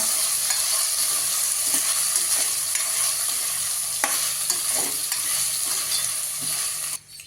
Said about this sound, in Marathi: तांदूळ पण थोडेसे परतून घेऊया